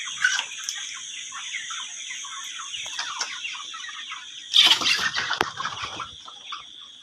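Chickens on a poultry farm cluck and squawk in a busy, layered chorus, with a louder burst of close calls partway through and steady background chatter throughout.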